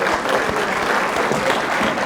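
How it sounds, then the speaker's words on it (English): Brief burst of audience clapping for panelists at a small business finance event, a close, even patter of many hands lasting a couple of seconds. "I would like to have a little round of applause for our panelists today."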